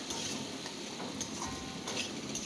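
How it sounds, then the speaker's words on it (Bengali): Potatoes frying in a pan with salt and turmeric give a dense, steady close sizzle, with faint taps of a stirring utensil scattered through it. "এবার খুব ভালো করে এগুলোকে মানে আলু ভেজে নিতে হবে"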